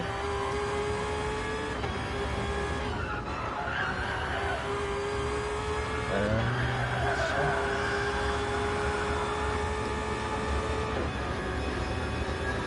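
A racing car engine in a video game race whines at high, steady revs, with a few brief gear-change dips and rises and a constant roar throughout, and no voices.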